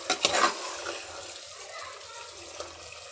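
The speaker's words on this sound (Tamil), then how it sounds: "தண்ணி ஊற்றியாச்சு." Water splashes into a pot of mutton biryani base with mixed mutton, a short burst of pouring at the start that fades into a soft, low simmering hiss.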